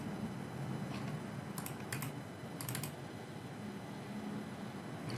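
A name is typed on a computer keyboard: a few brief bursts of soft key clicks, faint under a steady hiss.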